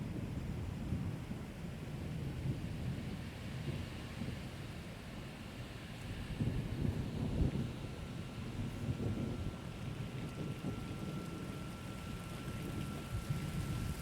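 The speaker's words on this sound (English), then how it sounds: "Oh, wind is picking up." Steady rain and wind during a summer thunderstorm, a dense broadband wash that swells into a louder gust around the middle and then holds steady, with no voices.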